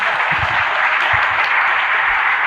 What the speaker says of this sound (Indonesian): Mohon aplaus tangan. Tepuk tangan.